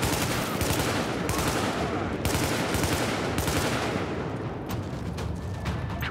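Sustained automatic gunfire in Tom Clancy's The Division, dense overlapping bursts of shots at close range, loud and continuous, with no talking.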